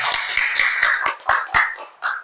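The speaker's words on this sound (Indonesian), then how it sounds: "Beri tepuk tangan dulu dong." A class applauds during a teaching practice lesson, rhythmic claps landing in an even beat with voices sounding along, fairly close and moderately loud.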